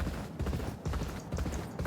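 Rapid hoofbeats of a galloping racehorse in the game Champion Jockey: G1 Jockey & Gallop Racer pound steadily, a dense rhythmic thudding with a busy, game-like mix behind it.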